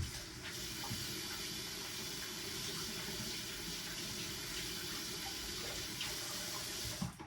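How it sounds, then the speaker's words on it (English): Hands being washed under a running kitchen sink tap while cooking fried pork chops, a steady soft rush of water that carries on evenly throughout and sounds close by. "So let me wash my hands."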